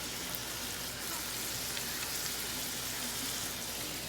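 Ground beef just starting to fry with minced garlic and yellow and green onion, a continuous close sizzle with a broad, even hiss and little variation.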